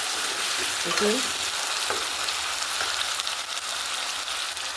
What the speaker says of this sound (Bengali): সেদ্ধ করে যে জলটা বেরিয়েছিল সেই জলটা এতে দিয়ে দিলাম।